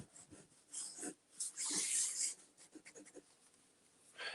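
Nib of an accountant pen scratching across paper in short strokes, with a denser burst of scribbling midway and soft breathy pauses between marks, close and fairly quiet.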